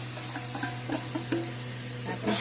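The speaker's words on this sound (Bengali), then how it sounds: "সুজি ভাজা হচ্ছে" Semolina and grated coconut frying in a pan, a soft sizzle with light scraping and stirring taps over a steady low hum.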